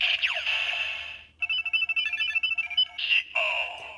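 Electronic sound effect from a Kamen Rider Zi-O Ridewatch toy after a single click: a bright synthetic tone sweep, then a rapid stuttering run of chirpy beeps and a final short jingle, close and loud with no talking.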